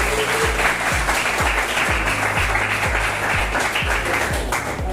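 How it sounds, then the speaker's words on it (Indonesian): A classroom of students applauding a classmate named Pandu after a long-jump lesson: a close, steady wash of clapping with a rhythmic beat of unison claps about twice a second underneath. "tepuk tangan untuk Pandu"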